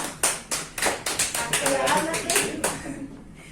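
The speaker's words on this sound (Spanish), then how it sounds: "quiero que le demos pues un fuerte aplauso, la bienvenida" A small group claps, sharp individual claps merging into brief, close applause that fades after a few seconds.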